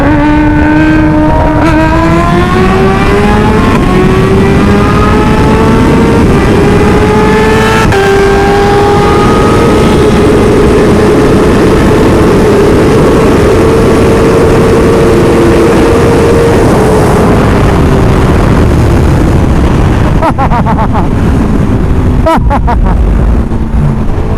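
Kawasaki Ninja H2 motorcycle engines roar loud and steady during a race, the pitch climbing through the gears with brief shifts, heavy rushing wind noise throughout.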